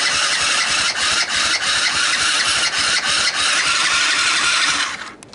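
Sunl 110cc ATV engine cranking in a starting attempt, a loud, close, continuous churning with rhythmic pulses that cuts off abruptly near the end without catching.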